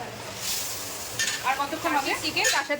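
Chicken sizzles in a pan for chilli chicken at a street food stall, a steady close hiss of frying broken by stirring and scraping, with indistinct voices and street noise in the background.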